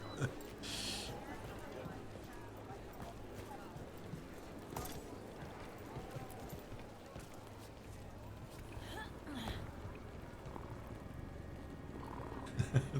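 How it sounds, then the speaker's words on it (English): A cat purring in the video game Dragon Age: The Veilguard: a soft, low, continuous rumble that holds steady throughout, accompanied by faint voices and scattered game noises. "Cat's purring and it makes the controller vibrate."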